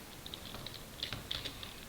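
Quick, light keystrokes on a computer keyboard, a short irregular run of clicks heard up close during word processing, with no talking.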